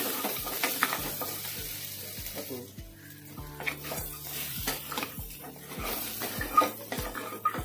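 Naga-style pork with dry bamboo shoots sizzles steadily in a pan, close and continuous, while a utensil scrapes and stirs it in a regular rhythm of clattering strokes.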